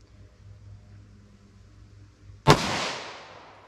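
A single .40 S&W shot from a 5-inch Smith & Wesson M&P pistol fired outdoors cracks sharply and loudly after a quiet lead-in, then leaves a long, fading echo trailing behind it.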